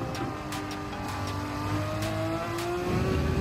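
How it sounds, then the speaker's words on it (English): A Porsche Cayman GT4 '16 race car engine in Gran Turismo 7 revs hard, with a loud, continuous engine note whose pitch climbs steadily and no voices over it. "this sounds like a race car now."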